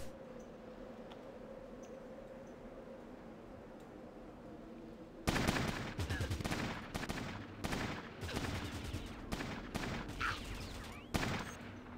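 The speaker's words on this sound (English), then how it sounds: "Burst can hit with more bullets instead of just sniping." Burst gunfire in the Fallout Tactics video game: after about five seconds of quiet low hum, loud clustered bursts of shots break out and repeat in quick volleys until the end.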